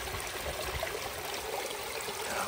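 Water cascades off a flat stone into a backyard DIY stream, a steady close splashing and trickling wash with no pauses.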